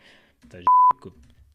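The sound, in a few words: test oscillator censor beep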